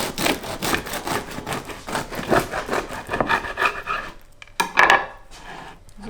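A knife saws through a crusty no-knead bread loaf in a home kitchen, giving rapid rasping, crackling strokes of crust breaking, close and fairly loud, pausing briefly before a few final crunchy cuts.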